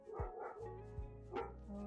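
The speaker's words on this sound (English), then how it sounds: "Apologies for the dogs." Several dogs bark in short, sharp bursts with a few higher yips, loud and close, while a low steady hum runs underneath.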